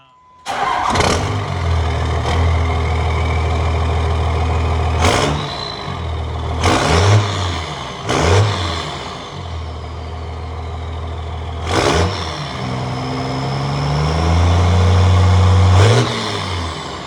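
A diesel pickup with a 24-valve Cummins engine, 4-inch downpipe and stacks idles with a deep rumble, then revs hard several times, each rev rising sharply and dropping back to a throaty idle.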